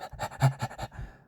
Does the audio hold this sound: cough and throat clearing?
no